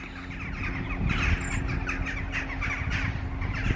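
Jackdaws give repeated harsh caws and squawks from a nearby flock, a steady chorus of overlapping calls over a constant low background hum with no talking.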